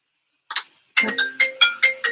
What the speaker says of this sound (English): It's my phone. I forgot to shut it off.